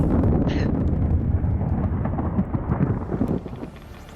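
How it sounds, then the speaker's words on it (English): The Aurora ship explodes in the video game Subnautica, a deep, heavy rumbling blast that rolls on for several seconds before tapering off, with no talking. "The explosion spread radiation all around the Aurora"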